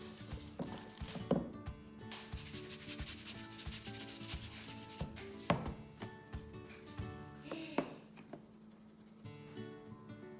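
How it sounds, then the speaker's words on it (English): Hands working a salt, garlic and pepper rub into a raw pork shoulder, giving close, soft squelching and rubbing strokes in an uneven rhythm, with occasional sharper slaps of meat against the surface. "Just gonna make kind of a rub and mix that in really good."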